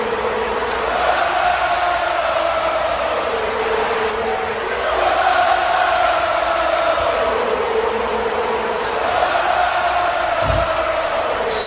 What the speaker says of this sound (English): Seth letting this crowd sing his song.